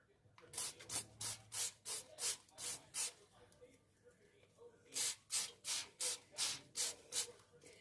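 Repeated short bursts of aerosol spray from a can next to a laptop, about a dozen hissing puffs in two quick groups with a pause between, fairly close and alone.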